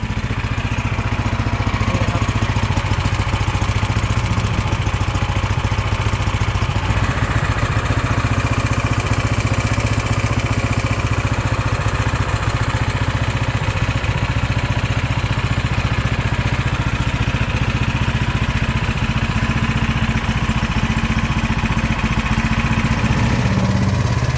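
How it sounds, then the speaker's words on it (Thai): A general-purpose gasoline utility engine idles steadily for the whole stretch, a constant close mid-pitched drone held at low speed without revving. "ให้เครื่องเดินเบากวนน้ำมันเรื่อยๆนะครับ"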